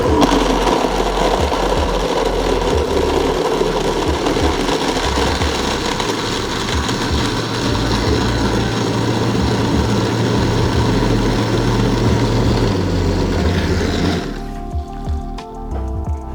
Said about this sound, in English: the key here is that you don't wanna blend it too long, just literally a few seconds